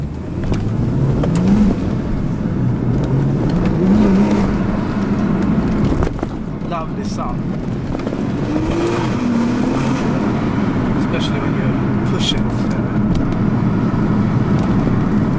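A Porsche 911 Turbo (997) with PDK gearbox drones steadily and close at night in Stockholm, its pitch climbing and dropping as it revs through gears, with wind and road noise throughout.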